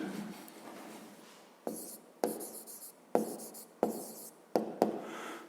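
Pen writing math notes on paper, a series of about six close scratching strokes in an uneven rhythm, each starting with a small tap, with no voices.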